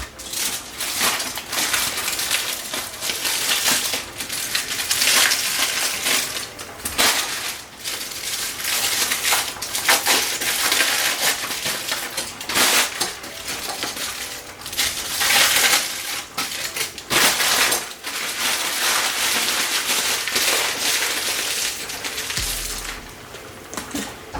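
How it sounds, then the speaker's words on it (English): Baked potatoes are unwrapped by hand at close range, giving sustained crinkling and crackling in uneven bursts with short pauses. "I'll just unwrap these potatoes."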